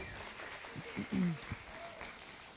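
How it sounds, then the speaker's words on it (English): An audience at a nonprofit senior-services session applauds a presenter, a faint, distant patter of clapping with a low voice briefly rising in the middle. "let's give Diane a round of applause"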